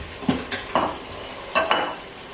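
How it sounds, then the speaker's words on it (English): Seared oxtail goes into a pan for an Instant Pot oxtail ragu, giving a few distinct thuds and scrapes of meat being dropped and stirred over a faint sizzle, close and without talk. "So now we'll add in our seared oxtail"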